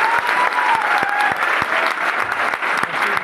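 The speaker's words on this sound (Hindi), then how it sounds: "अरे एक बार जोरदार तालियां तो बनती है।" An indoor audience claps loudly and steadily for a few seconds, with dense overlapping handclaps and a faint voice underneath.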